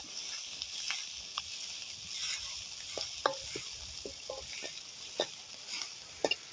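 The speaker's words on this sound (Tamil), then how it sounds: "இதை கொஞ்சம் பிரட்டி கொஞ்சம் பொரிக்க விடுங்க" Onions and fennel seeds frying in a pan for Sri Lankan fish curry: steady sizzle with a broad hiss, broken by scattered small pops and scraping stirs, close and moderately loud with no talking.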